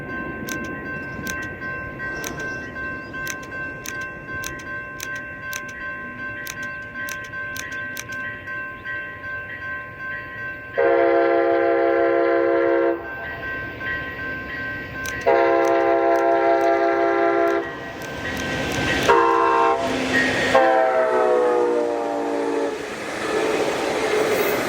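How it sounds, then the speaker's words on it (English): A westbound ACE commuter train hauled by a new Siemens Charger locomotive passes through Alviso Marsh at dawn. It starts with rhythmic wheel clicks, then the horn sounds loudly in three long blasts, with rolling rumble between them. "another westbound train that now finally gets to see the light of day, headed through the Alviso Marsh at 7:26 a.m."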